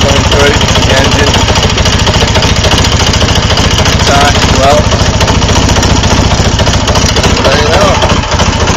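A 1961 BSA A10 Super Rocket motorcycle engine runs steadily close by, a loud, even throbbing idle with a fast regular pulse, while someone talks briefly over it.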